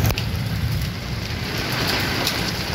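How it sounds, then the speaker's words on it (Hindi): Dense, steady patter of large hailstones pelting surfaces nearby during a storm in Jalandhar, a continuous loud hiss with sharper impacts scattered throughout. "ये ओले ओले गिर रहे हैं,"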